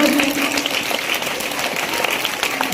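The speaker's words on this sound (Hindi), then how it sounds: "तो तालियां बरकरार रखिएगा" Crowd applause at a school Teachers Day celebration, a steady mass of clapping heard near and fairly loud, with a voice speaking over it briefly at the start.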